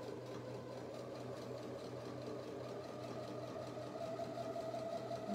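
A sewing machine runs steadily while hemming denim jeans, a continuous mechanical whir with a low motor hum that holds at an even level throughout and swells slightly near the end.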